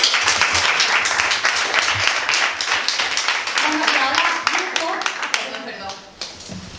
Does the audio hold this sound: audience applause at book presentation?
yes